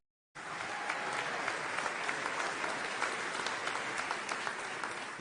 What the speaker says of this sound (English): let's give a warm round of applause for all our heads of state